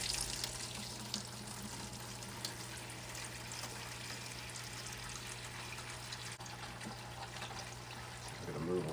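Water pours and trickles continuously during a full water change in a 5-gallon betta fish tank, with a steady, close splashing wash and no pauses.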